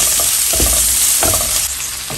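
Chopped onion frying in a pan until translucent, a steady close sizzle with a few stirring scrapes, no voices.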